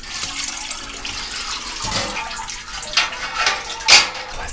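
Cold brew coffee draining and splashing back into the brewing vessel as the filter basket is lifted out, irregular trickles and gushes building to a brief louder pour, close and without talk.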